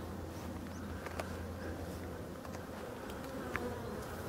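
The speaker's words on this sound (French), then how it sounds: "Donc on voit un peu les abeilles qui sortent là." Honeybees buzz steadily as they fly out of the hive, a continuous close drone of many wings with faint passing whines.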